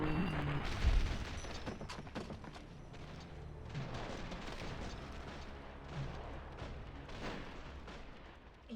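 Gunfire from the Fallout: New Vegas game, dense crackling shots and booms layered over steady game ambience, with a heavier burst near the start and scattered reports throughout.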